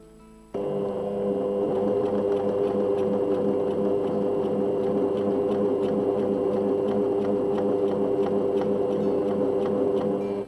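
An overlocker stitches a seam allowance along the edge of a fabric piece, starting abruptly and then running at a fast, even mechanical chatter with a rhythmic ticking whir, close and steady until it stops at the end.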